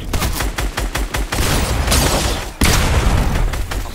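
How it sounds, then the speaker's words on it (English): Assault rifle fire in the video game Fortnite: rapid loud bursts of shots ring out in quick succession, then sustained gunfire and a sharp boom near the middle, with no talk. "I missed all the bullets from that assault rifle"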